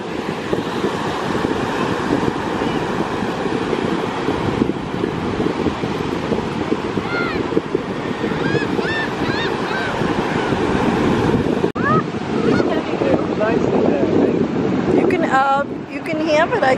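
Ocean surf and gusty wind at a South Padre Island beach, a loud continuous roar with heavy wind buffeting on the microphone, while people talk and children's voices rise over it.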